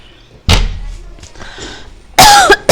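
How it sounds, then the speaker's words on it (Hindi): A woman coughs twice indoors, two sharp, loud bursts about two seconds apart, with quiet rustling between them. "इतनी ज़्यादा मेरे को खांसी हो गई है ना,"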